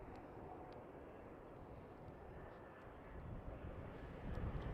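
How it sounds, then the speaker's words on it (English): A KLM Embraer E190 airliner lands on Schiphol runway 18R, its engine roar rumbling low and distant and growing slightly louder toward the end, heard amid wintry outdoor ambience. "Here we have the E190 from KLM City Upper coming from Aalsund."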